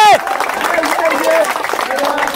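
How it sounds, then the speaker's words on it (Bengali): Audience applause for a contestant at a cage-football challenge event, a steady burst of clapping lasting about two seconds, fairly loud, with a voice calling out at the start. "দর্শক বন্ধু, তার জন্য করো জোরে হাততালি।"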